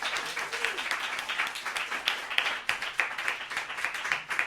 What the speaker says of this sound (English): I wanted to give her a very quick round of applause